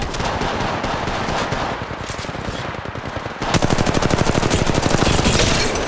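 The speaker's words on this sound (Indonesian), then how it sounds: "Ada yang nembak, ada yang nembak, ada yang nembak di sana" Automatic gunfire in the mobile shooter Apex Legends Mobile, rapid close-range bursts that pause briefly, then resume as a louder, fast, evenly spaced stream of shots.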